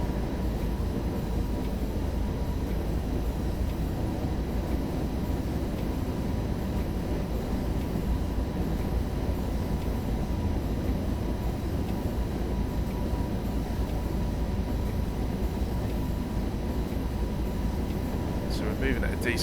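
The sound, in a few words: DB BR101 electric locomotive train in Train Sim World 2, video game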